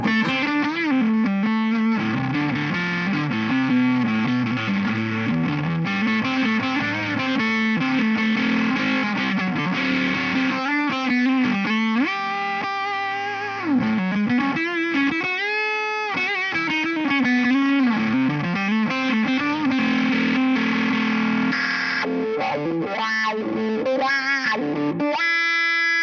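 An electric guitar played through a FLAMMA FS07 stereo cab simulator pedal, with a US Twin 2x12 cab on one side and a Pete Thorne cab IR on the other, rings out with driven, effects-laden sustained notes and bends, steady and up close.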